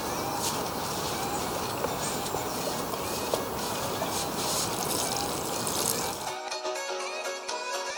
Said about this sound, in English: when you finish planting them, you can just water it